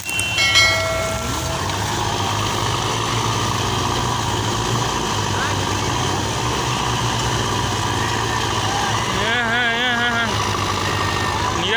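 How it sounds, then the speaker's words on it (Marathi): Four tractors and a JCB straining to haul a sugarcane trolley stuck in the ground, their engines droning steadily and loud throughout, with a wavering whine rising briefly near the end. "आता लावलेल्या 4 ट्रॅक्टर आणि JCB"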